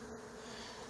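Honeybees buzz steadily at an opened hive while feeding on a block of sugar candy, a faint, close, continuous hum.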